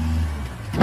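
A car engine on the road, a steady low hum that swells slightly as it draws closer.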